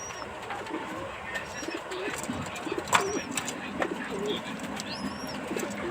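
A pigeon coos softly a few times close by among faint chirps, rustling and background noise, with occasional wing movement.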